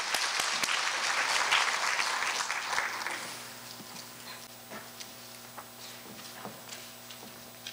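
Audience applause at a Korea University engineering college event for new students and parents: clapping swells for about three seconds, then thins into scattered, fading claps.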